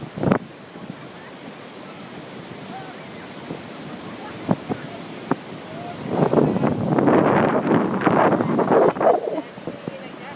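Sea waves wash onto a beach, rising into a loud rushing surge midway, with wind buffeting the microphone and scattered sharp knocks around it.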